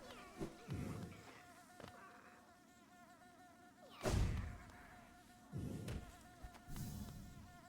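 Insects of the hive buzz in the Hollow Knight video game, a wavering drone broken by several heavy low thuds, some near and loud, with no talk.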